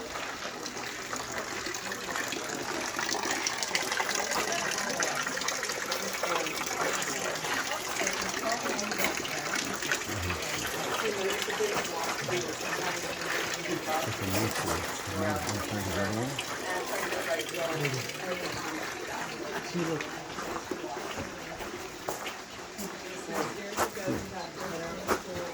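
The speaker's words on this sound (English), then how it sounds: "Here's your water coming down." Water rushes steadily down the falls beneath Frank Lloyd Wright's Fallingwater house in Pennsylvania, a continuous gushing roar with people talking over it throughout.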